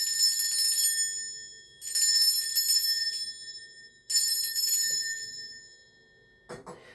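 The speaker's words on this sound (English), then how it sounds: "Now I'm gonna just cleanse the space around us by ringing a bell." A hand bell rung three times in long shimmering bursts, each ringing out and fading before the next, loud and close in a quiet room, followed by a brief soft clatter.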